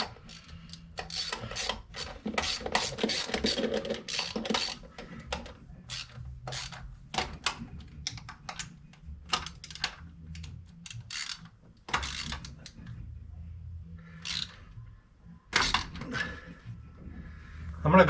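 A wrench ratchets engine bolts snug on a 1970 Chevrolet C10 motor, giving rapid bursts of metallic clicks separated by short pauses, close and crisp across the whole stretch.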